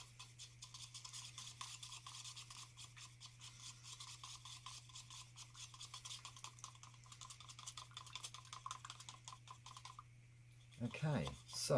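Jesmonite mix stirred steadily in a container, a quiet, continuous scraping rhythm of repeated strokes against the sides, close but faint over a low steady hum, ending with a few louder knocks.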